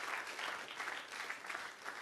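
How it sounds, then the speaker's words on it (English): A conference audience at a welcome session claps steadily in a dense, continuous wash of applause, moderately loud and without pause. "please put your hands together for yourselves"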